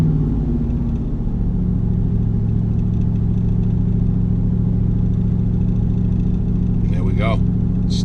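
A 1988 IROC Z28 Camaro engine, with a high idle fault, idles in a steady low rumble as the throttle is blipped, and the revs lift and hold up rather than dropping back.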